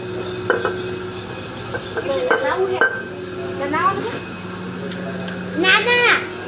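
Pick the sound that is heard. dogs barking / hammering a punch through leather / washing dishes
washing dishes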